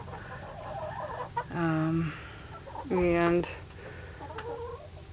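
Chickens cluck nearby in two loud, drawn-out bursts, with softer clucking and brief background sounds between them.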